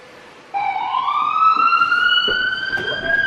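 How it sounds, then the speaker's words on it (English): An ambulance siren switches on abruptly after a quiet moment, then sounds as one loud, sustained wail that rises slowly and holds, close and clear, with faint background noise beneath. "you play an ambulance noise"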